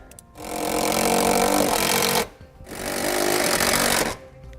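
Power driver sinking 3/8 self-tapping screws with fender washers through a 2013 Jeep Wrangler's floor, two long loud sustained bursts with a short pause between.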